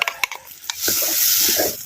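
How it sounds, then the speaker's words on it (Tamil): A few quick metallic clinks of a spoon stirring in a pan lead into a loud, steady sizzle. Fennel, curry leaves, shallot paste, ginger-garlic paste, chilli powder and garam masala are frying for a country chicken gravy, with no talk. "சோம்பு, கருவேப்பிலை, சின்ன வெங்காய விழுதுகள், இஞ்சி பூண்டு விழுதுகள், மிளகாய் தூள், கலந்த தூள், கரம் மசாலா நல்லா வதக்குறோம்"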